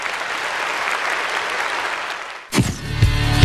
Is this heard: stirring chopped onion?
no